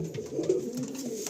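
Lambardi pigeons give a low, continuous, burbling coo, brief and close, with a faint hiss of background noise.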